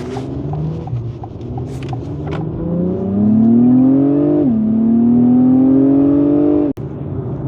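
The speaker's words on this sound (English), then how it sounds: "So if I have it in Sport Plus mode, it's running at much higher RPMs." A 2025 Acura TLX Type S engine revs up loudly from inside the car while accelerating onto a freeway, its pitch climbing steadily, dipping at a gear change, then holding high before a sharp cut.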